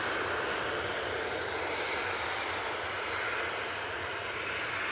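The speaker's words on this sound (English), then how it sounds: "And they're using their 737-800 for this flight." Boeing 737-800 jet airliner taxiing at Manchester Airport before departure to Preveza, its engines giving a continuous faint, even broadband hum with no voices.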